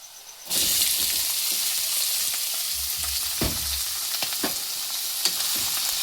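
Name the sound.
snails poured into pan with browned onions, frying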